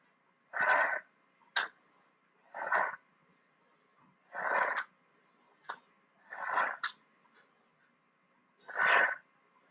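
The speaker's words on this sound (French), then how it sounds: "J'inspire et je souffle." Forceful breaths pushed out during a HIIT workout, six separate hissing exhales at an uneven pace a second or two apart, close and fairly loud with quieter clicks between them.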